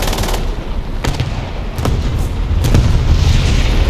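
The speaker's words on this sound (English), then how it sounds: "Ooh, artillery." Artillery shells exploding in War Thunder while playing the Sturmpanzer II, a series of loud booms and gunfire-like blasts landing at irregular intervals over a steady rumbling battle background.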